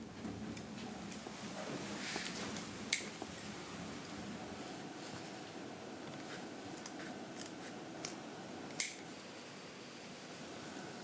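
Tailor punching buttonholes and cutting tailcoat fabric with scissors: quiet, close snipping and soft fabric rustle, broken by a few sharp clicks of the punch.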